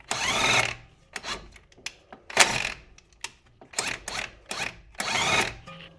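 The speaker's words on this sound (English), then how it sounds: "DeWalt impact gun usually does a pretty good job" A DeWalt DCF891 cordless impact gun fires in short, loud, rattling bursts, about eight or nine of them, with quiet gaps in between, tightening coil-over bolts on a 2003–2008 Toyota Corolla, Matrix or Pontiac Vibe suspension.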